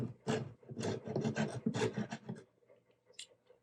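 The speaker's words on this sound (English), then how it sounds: "with both the bridge and the body scraped to get down to the bare wood" Bare wood being scraped off a classical guitar's bridge and body, a series of close, dry rasping strokes in quick bursts that die away into quiet near the end.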